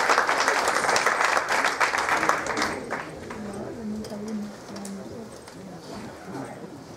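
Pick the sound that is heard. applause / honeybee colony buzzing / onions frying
applause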